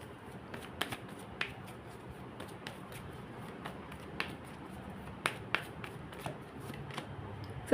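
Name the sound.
shuffling tarot cards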